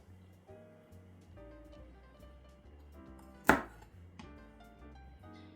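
A knife cuts through a vegetable on a board at home, with one sharp, loud chop standing out over quiet background music.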